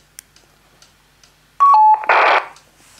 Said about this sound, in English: Here's the Baofeng to key up. Channel 1. Must be Roger Beep on it.